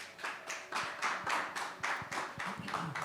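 A church congregation applauding its pastor at a Sunday service, steady rhythmic clapping from a crowd with sharp individual claps in front, sustained throughout.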